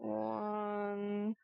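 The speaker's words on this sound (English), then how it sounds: "Oh my god, that cat is wanting either food or attention." A single drawn-out cat meow, fairly faint, with a rising whine that steadies into a sustained tonal cry of about a second before cutting off.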